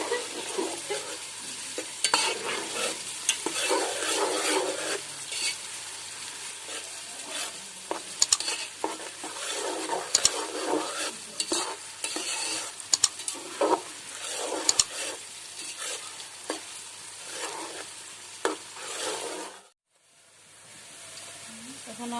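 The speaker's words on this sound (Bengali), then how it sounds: "পেঁয়াজগুলো বেরস্ত হয়ে গেছে" Onions frying for a village-style native chicken biryani, a steady close sizzle with repeated stirring and scraping strokes in an uneven rhythm, ending in a brief cut to a quieter hiss.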